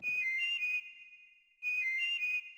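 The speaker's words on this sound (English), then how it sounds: "Instead, wait for them to whistle." Two bursts of a clear, high whistled GameSpeak melody from the game Oddworld: Abe's Oddysee, each under a second, separated by a short quiet gap, with electronic game-like tone.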